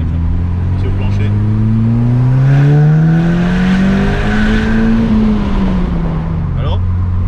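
Volkswagen Polo WRC rally car engine revving hard and accelerating, loud and close, pitch climbing then falling back, with a voice talking over it.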